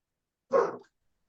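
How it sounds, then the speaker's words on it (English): A dog gives one short, sharp bark, fairly close and alone in otherwise silent surroundings. "The dog's gonna bark."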